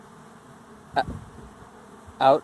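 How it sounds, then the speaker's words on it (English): Honeybees from a caught swarm buzz around a box, rising in two close, loud bursts as insects fly past near the listener, with a steady faint hum between them. "Like you put a bunch of bees in a box and then they just take off."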